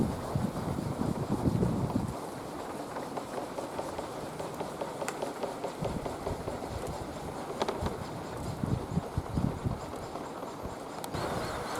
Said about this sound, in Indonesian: Anginnya datang kembali, sobat.